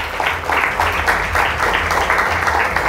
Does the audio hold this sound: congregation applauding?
yes